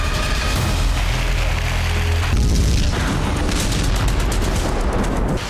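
A heavy explosion in war-torn Ukraine during a Russian missile and drone attack, a deep rumbling boom with a sustained roaring echo filling several seconds, loud and without speech.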